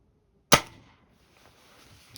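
A Crosman Magfire Extreme air rifle fires a single sharp, close shot after a short silence, followed by a brief fading tail and a faint click near the end.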